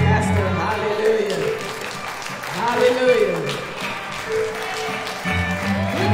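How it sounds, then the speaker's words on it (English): A church congregation applauds and cheers for their pastor, steady clapping with crowd noise throughout while someone speaks over it. "Now come on, all give it up for your pastor"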